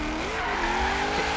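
A car in Forza Horizon 3 is street drifting, its engine revving with a steady, rising drone. Tire noise runs continuously underneath, close and fairly loud, with no talking.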